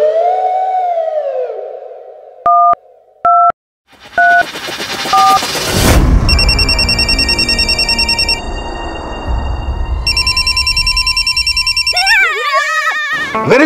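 A cartoon phone sequence: a few short dial tones and beeps, then a harsh crash of noise and a long, loud electronic telephone ring pulsing in bursts, with faint speech-like sounds near the end.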